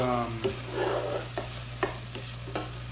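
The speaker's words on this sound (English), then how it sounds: "We'll just stir this around, and the oil will give us a little bit of more of a base for for the sauce" A homemade BBQ sauce base stirred in oil, soft sizzling with a handful of distinct scraping strokes of a spoon against the pot over a low steady hum.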